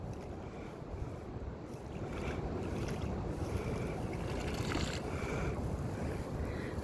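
Strong wind at an outdoor farm wetland, buffeting the microphone as a loud, continuous rumbling roar with gusts swelling and easing throughout and no talk.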